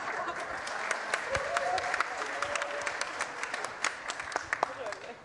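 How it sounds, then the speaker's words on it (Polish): An audience at a Polish art panel gives a moderate round of applause, with scattered sharp individual claps over a continuous crowd murmur and some speech underneath. "Oklaski też."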